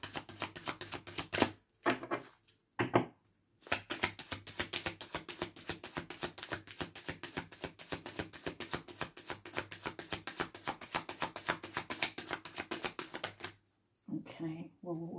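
Tarot cards are shuffled in a long run of rapid, dense riffling clicks, close and fairly quiet, between brief pauses, with a voice speaking near the end.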